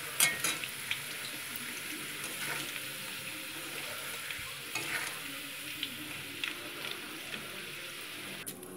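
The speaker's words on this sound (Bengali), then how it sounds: "একটু ভালো করে আলুটা প্রথমে ভেজে নেব।" Potato pieces fry in oil in a pan, a steady close sizzle broken by occasional stirring scrapes and clinks, with no talk.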